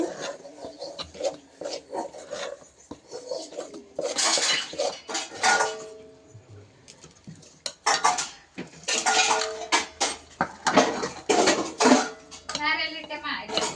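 Metal spoon scraping and clanking around a pot as ground flour is stirred into sugar syrup for ariselu, a thick mixture, with a person talking over the steady stirring.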